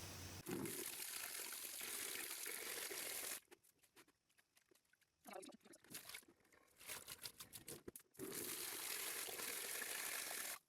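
Running water gushes loudly as crocheted yarn is rinsed, the splashing stream broken by quieter squishing and sloshing handling before the flow resumes strongly.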